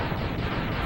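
An explosion sound from the Mega Man X video game after the Chill Penguin boss fight, a dense continuous rumbling blast lasting under a second.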